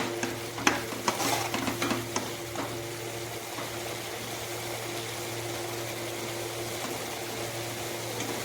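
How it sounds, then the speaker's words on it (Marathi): Mutton curry masala is stirred as it fries in mustard oil, with a few scraping strokes up front settling into a continuous close sizzle over a low steady hum. "ते चांगलं शिजवून घ्यायचं सरसू तेल सोडेपर्यंत"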